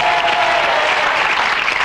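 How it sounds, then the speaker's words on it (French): Loud, dense audience applause for a singer on a French television Eurovision selection show, sustained and even throughout, close and filling the room. "on peut l'applaudir encore"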